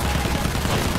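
A machine gun fires in Battlefield 1, a brief burst of rapid rattling shots lasting about a second, loud and dense with no pause.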